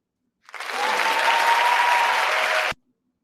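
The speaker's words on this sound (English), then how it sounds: "now that was some canned applause right there" Canned applause at a TEDx talk on racial equity, a smooth burst of crowd clapping that rises quickly, holds at an even level for about two seconds, then cuts off abruptly.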